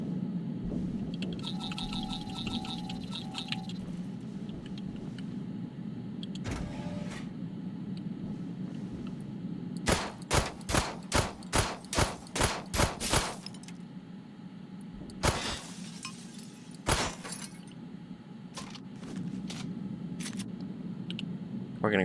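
A pistol fired repeatedly in the video game Memories of Mars, a quick run of about eight sharp evenly spaced shots, then a few isolated louder blasts, over a steady low ambient hum.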